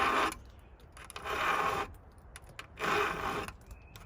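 A hand file rasps across saw teeth in three slow, even strokes, each about a second long with quiet pauses between, close and clear.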